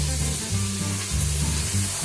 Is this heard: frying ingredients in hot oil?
yes